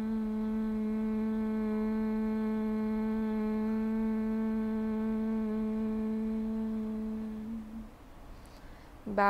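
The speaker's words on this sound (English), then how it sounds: "chanting the three syllables of Om, which are A, U, and the humming sound, M" One voice holds the humming M syllable of an Om chant as a single steady low tone for about eight seconds, then it fades into quiet room sound.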